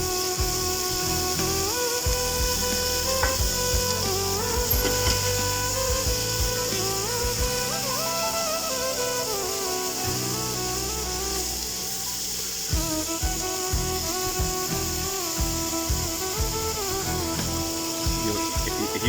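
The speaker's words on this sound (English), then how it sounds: "you want to hear frying, sizzling" Chicken stir-fry sizzling in a smoking hot wok over the highest heat, a loud continuous hiss and crackle with scraping and clattering of tossing utensils throughout, no talking.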